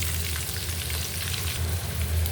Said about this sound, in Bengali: এখানে আছে পেঁয়াজ কেটে রাখছি এটা দিয়ে দিলাম